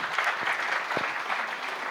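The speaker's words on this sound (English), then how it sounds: "great applause?" Audience applause for a panelist at an HR panel discussion on digitisation and automation, a steady dense wash of many hands clapping, moderately loud and continuous throughout with no talk over it.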